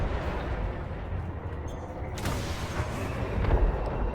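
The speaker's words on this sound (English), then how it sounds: "I'm going to use missile." Missile launches against a ship in the space game Elite Dangerous, heavy booming blasts over a constant low rumble, one sharper crack near the middle and a deeper thump toward the end, no speech.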